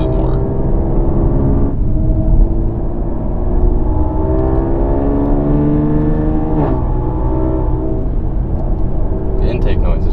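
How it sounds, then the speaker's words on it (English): Kia Stinger GT 2019 twin-turbo engine with dual AEM intakes, heard from inside while driving: a steady, loud engine drone with rising and falling harmonic tones under continuous talk. "The intake noise is really nice on this car."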